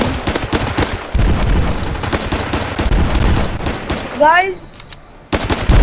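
Rapid automatic gunfire bursts loudly in the Zombie Rush zombie shooter game, dense repeated shots with a rising game sound effect near the end, while a voice briefly talks over it.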